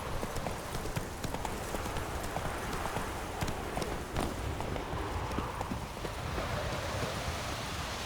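Roach, the horse in The Witcher 3, gallops in a steady, rapid clip-clop of hooves over a constant wash of wind-like ambient noise, close and continuous with no voices.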